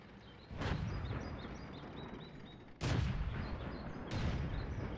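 Three heavy artillery shots boom out in a World of Tanks battle, each a sharp blast trailing into rumble, spaced a couple of seconds apart over a faint background with light chirps.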